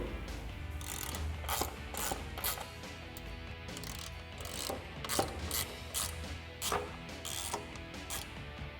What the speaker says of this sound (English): You can tighten those down with the 5/32 Allen key.